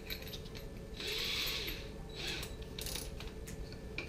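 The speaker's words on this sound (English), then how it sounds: "run a little countersink in there" A hand countersink is run into the back of a nut hole on a homemade depth gauge ruler, giving a few short bursts of bright scraping and grinding over a low workshop hum, with no talking.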